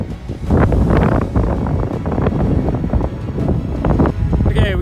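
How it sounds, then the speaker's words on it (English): Strong wind buffets the microphone high on a Drakensberg mountain pass, a loud, continuous rumbling roar with gusty surges. A voice speaks beneath the blustering. "Wind is starting to pump again, so it's actually pushing us down."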